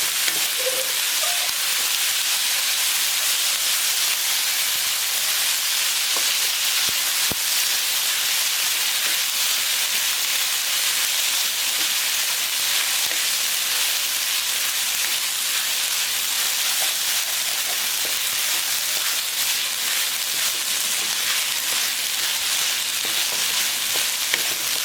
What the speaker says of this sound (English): Saute for about 30 to 40 seconds, that's it, not too much.